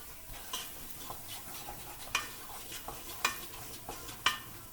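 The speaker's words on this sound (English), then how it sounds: "we can give this a stir" Beef stroganoff being stirred in a pan, soft low sizzling under a series of light spoon taps and scrapes, a few louder clacks spaced roughly a second apart, with no talking.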